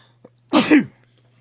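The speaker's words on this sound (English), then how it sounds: "Helpful to sneeze right at the end." A single sharp sneeze, close and sudden, preceded by a brief faint intake, then quiet.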